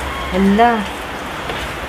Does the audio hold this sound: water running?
no